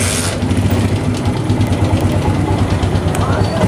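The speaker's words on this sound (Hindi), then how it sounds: "अब हम बाइक को स्टार्ट करके गेयर लगा के चेक कर लेते हैं" A Honda CG125 motorcycle engine idles just after starting, with a steady, loud, low throbbing rhythm close by and no voices.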